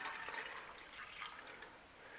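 Water pours steadily into a metal canteen cup beside a titanium camping stove, making a soft, continuous splashing and trickling that holds up close and quiet for a couple of seconds with no talking.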